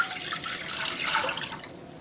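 Tap water runs steadily into a pot or container as 3 cups are measured out for homemade hummingbird nectar, a continuous close splashing stream with no voices.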